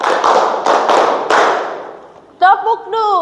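A classroom group claps together in a routine: dense, loud bursts of many hands landing in a few rhythmic beats, fading off before voices chime in at the end.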